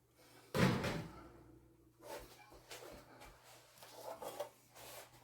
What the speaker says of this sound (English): Open the oven door. Slide the chicken back in.